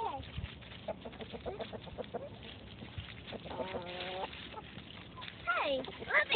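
Chickens clucking and calling close by in a farmyard, short bird calls scattered through the clip while people talk over them.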